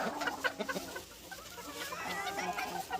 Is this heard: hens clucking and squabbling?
yes